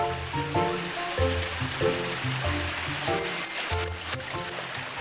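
A mountain valley stream in Jirisan flows with a steady, broad rush of water, with background music over it.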